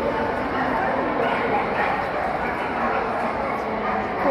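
Portuguese pointer dogs at the Crufts dog show yip, whimper and bark amid a busy indoor crowd, with people talking throughout in a loud, reverberant hall.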